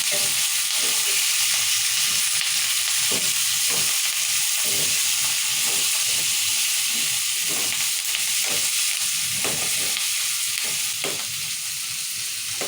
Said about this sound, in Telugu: రెండు నిమిషాలు అలా అలా వేయించుకోవాలి